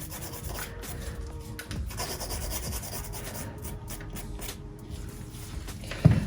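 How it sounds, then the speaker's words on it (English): A nail file rasping over full cover nail tips, with close, loud repeated scratchy strokes in a steady back-and-forth rhythm and a brief knock at the end, without talk. "we are just going to gently flick over with the nail file just to remove those little notches"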